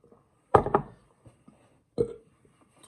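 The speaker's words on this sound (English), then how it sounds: "only a little burp there" A short burp right after a swig of Peroni beer from a 330ml bottle, with a second smaller burp-like sound following about a second later, close to the mic in a quiet room.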